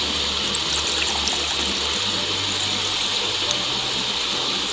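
Ginger and garlic water for a Peshawar-style charsi chicken karahi is strained, making a steady watery wash and splashing with a low pulsing hum beneath it and no voices.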